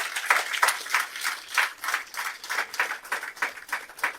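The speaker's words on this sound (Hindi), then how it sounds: "चाहूंगी जोरदार तालियां आप अपने लिए बजाएं" An audience claps together in a burst of applause at a Delhi public event, a dense, steady patter of many hands lasting several seconds with a faintly pulsing rhythm and no talk over it.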